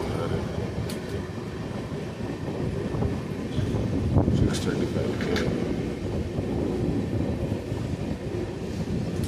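A train rumbles steadily at a railway station with a low, continuous roar, broken by a few faint metallic squeals and clanks.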